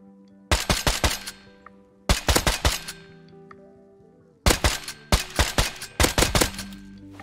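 Silenced gunfire from the survival game Rust comes in four rapid bursts of sharp, clipped shots, each a quick rattling volley separated by short pauses, with a faint background hum and no talking.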